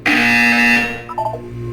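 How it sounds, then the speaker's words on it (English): A loud electronic buzzer sounds once in the video game Portal 2, a harsh sustained tone lasting under a second and dropping into a short fading tail. "You will hear a buzzer. When you hear the buzzer,"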